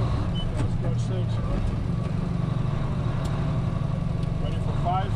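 A 10-speed truck engine rumbles low and steady through a downshift on a CDL road test, with faint clicks over the drone.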